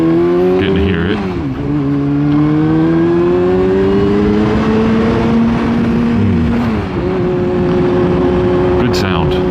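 A loud vehicle engine drones and rises steadily in pitch while driving through a road tunnel, its roar full and reverberant, briefly dipping before climbing again.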